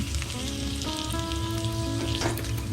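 Cubes of paneer fry in hot oil with a steady crackling sizzle and occasional pops. No one speaks.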